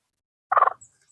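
A labuyo, a red junglefowl hen, gives one short, close, throaty clucking call and a fainter trailing note against otherwise silent surroundings.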